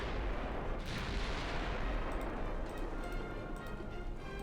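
Warship guns fire in the naval battle game Ultimate Admiral Dreadnoughts, a dense rumbling boom with rolling low thunder and scattered crackling reports, loud and close, with no speech over it.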